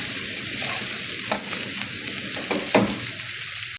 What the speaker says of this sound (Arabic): طاسه فيها زيت سخن، بنزل عليها في المنقار